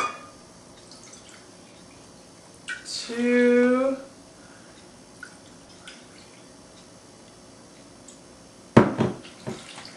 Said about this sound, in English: we have to add water to the blender